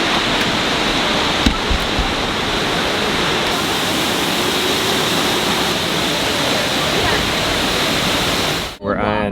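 A steady, loud, broadband rush from a waterfall fills the whole stretch without a break, then cuts off abruptly near the end.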